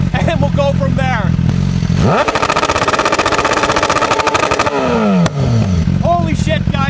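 BMW S1000RR motorcycle with an Austin Racing exhaust, loud and close, revving high and held on the launch-control limiter with a rapid crackling pop burst, then the revs fall away; a voice talks at the start.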